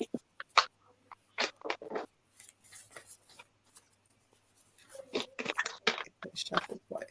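Tarot-style reading cards being shuffled up close, a series of quick papery riffles and flicks in uneven bursts, quiet overall with short pauses between the runs of shuffling.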